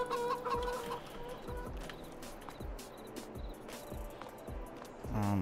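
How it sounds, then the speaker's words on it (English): Chickens in the Farming Simulator 22 video game cluck steadily in a dense, rhythmic flock chorus, close and continuous throughout, with no talk over them. "I gotta feed the chickens first before I sign off."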